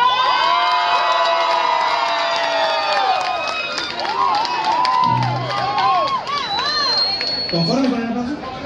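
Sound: audience applause and cheering

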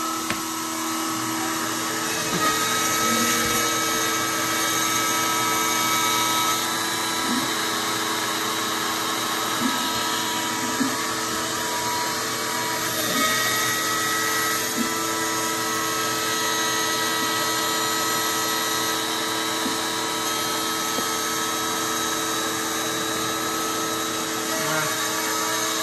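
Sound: vacuum cleaning after X-Carve CNC carving

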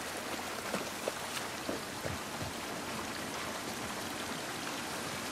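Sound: rain in the video game The Last of Us Part I

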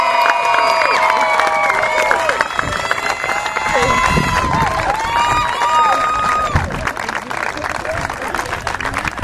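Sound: applause for senior left fielder Emily Ceccacci

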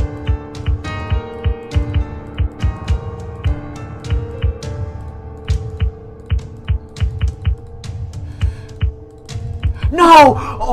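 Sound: keyboard and mouse buttons clicking during an APM test

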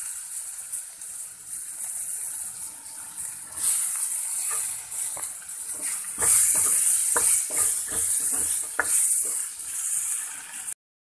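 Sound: greens added to spiced oil, frying and sizzling in a pan

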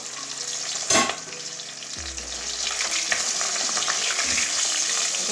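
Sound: rohu fish head frying in oil

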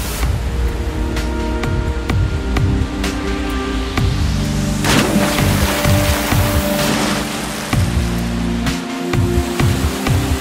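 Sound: gushing river rapids

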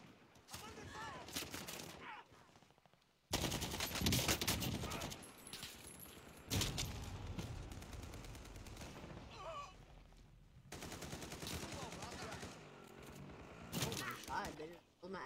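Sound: gunfire in a video game

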